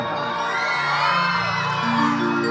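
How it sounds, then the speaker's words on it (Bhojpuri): Audience at a Bhojpuri stage show shouting and whooping together, a dense, sustained crowd roar with cheering voices rising throughout, loud and close. "तू लोग वो हल्ला करके ताली बजाओ सब जोर से"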